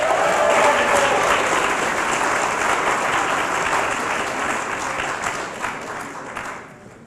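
Sustained applause from an audience at a senior awards ceremony after a $1,000 scholarship is announced, steady and full before tapering off toward the end.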